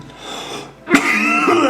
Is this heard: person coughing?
yes